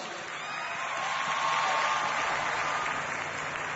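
A TV show studio audience applauds steadily as a commentator is introduced, a dense, even wash of clapping that holds at a constant level throughout with no voices on top.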